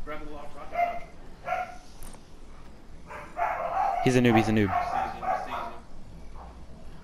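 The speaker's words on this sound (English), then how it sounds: "Why are they barking?" Dogs bark in short bursts, one strong volley loud and close in the middle, under and between young men's excited chatter during an online duo shooter game.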